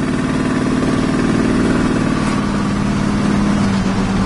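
Deep, steady engine rumble from a 1979 Dodge Li'l Red Express pickup truck with stock exhaust pipes, droning continuously at close range while driving, with no talk.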